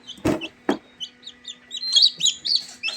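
A newly hatched Rhode Island Red chick peeps in a rapid series of high, thin chirps, close and clear, after two brief handling bumps at the start, with no voices.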